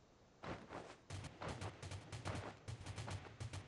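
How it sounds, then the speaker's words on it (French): Bursts of automatic gunfire in the video game Rules of Survival, rapid rattling volleys in several separate strings with short gaps between them, loud and close with no talk over them. "ça tire au fond"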